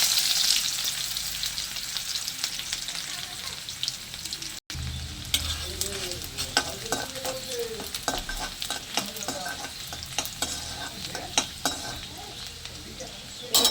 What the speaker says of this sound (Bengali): এবার ওই তেলের মধ্যে দিয়ে দেবো ফোড়নে অল্প করে কালো জিরে, দিয়ে দেবো পেঁয়াজ কুচি আর লঙ্কা কুচি একসঙ্গে